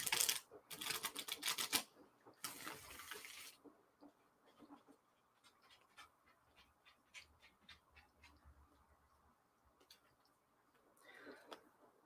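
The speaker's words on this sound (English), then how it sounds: "I'm going to give them another quick shuffle here" A deck of tarot cards is shuffled by hand, giving bursts of rapid riffling and flicking up close, followed by quieter card handling and soft taps.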